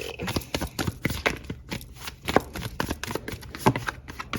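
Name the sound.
tarot cards being shuffled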